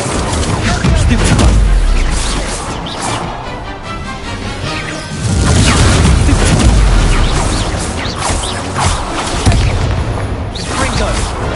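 Loud spell-casting combat effects from the video game Hogwarts Legacy, with booming blasts and crackling bursts arriving in repeated waves, while a voice shouts spell names over the action.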